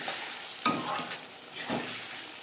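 Eggplant cooking in fish oil in a pan gives a steady moderate sizzle, broken by a couple of scraping stirs.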